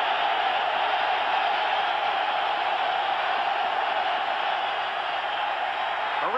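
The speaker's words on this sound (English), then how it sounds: "Again, the crowd responds to the Jet defensive unit." A stadium crowd at a 1991 NFL game between Miami and the New York Jets roars for the Jets defense, a dense, steady wall of cheering that holds loud and unbroken throughout.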